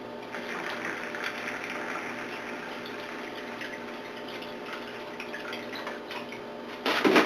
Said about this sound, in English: I'm going to add in my distilled water